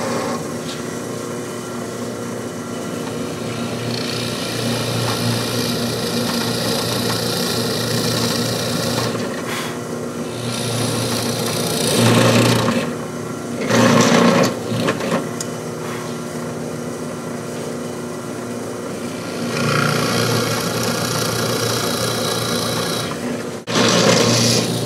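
Steady rasping wood-tool work on a slotted guitar headstock, cutting down from the top on the slotted side, runs continuously with a few louder scraping bursts and brief pauses, close and alone without talk.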